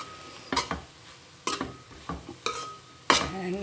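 Fresh coconut is stirred into a beans curry in a pan, with a spoon scraping and knocking against the metal in four or five rhythmic strokes over a soft sizzle, close up and without speech.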